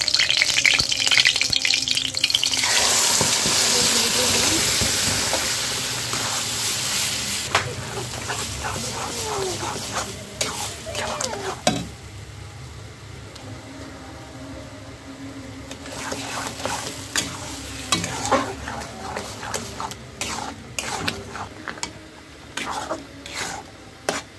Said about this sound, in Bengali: ঘিতে আমি গাজরটা একটু ভেজে নিব